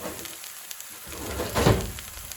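Spring garlic and mushrooms frying in a pan give a steady, close hiss that swells into a brief louder crackle partway through, with no talking.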